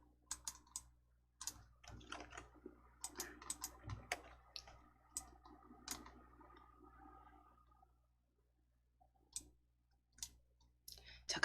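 A computer mouse clicks in short, sharp taps, sometimes singly and sometimes in quick clusters, close and fairly quiet against near silence. A voice speaks now and then between the clicks.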